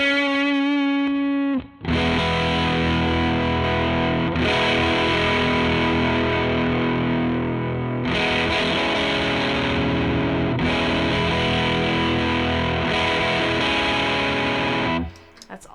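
Electric guitar played through a Black Bobbin Boost dual boost pedal with the boost side engaged and the tone raised slightly, giving a loud, sustained, driven tone in chords and riffs that ring continuously for about fourteen seconds after a brief clean opening note.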